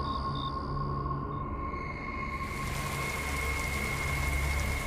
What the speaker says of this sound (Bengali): বৃষ্টি বাইরে পড়লেও তার তোড় তেমন বেশি নেই এখন